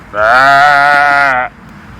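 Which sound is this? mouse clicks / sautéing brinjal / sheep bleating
sheep bleating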